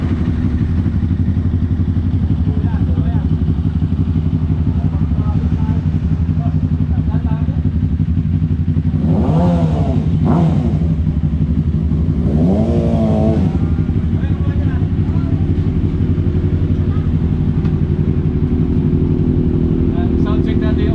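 A Kawasaki ZX6R sportbike fitted with a new Orion exhaust muffler idles loudly with a deep steady rumble, rising in a couple of brief revs midway, while people talk nearby.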